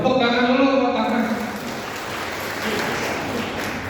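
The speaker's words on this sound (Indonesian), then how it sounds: "Tepuk tangan dulu" Scattered clapping from a small audience at an Indonesian business talk, rising as a speaking voice fades out at the start and continuing at moderate volume.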